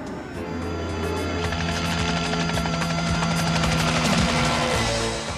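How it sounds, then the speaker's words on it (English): A helicopter mustering cattle on a Kimberley station thumps in a rapid, regular rotor chop over a droning engine hum, loud and close throughout. "Now today, they're doing it the easy way. They're using the chopper."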